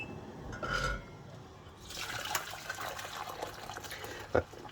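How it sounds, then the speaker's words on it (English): Boiling water is poured from a kettle into a bowl of chocolate set over a pan, a short, fairly quiet splash and trickle followed by a faint filling sound and a small clink near the end. "about to add some boiling water"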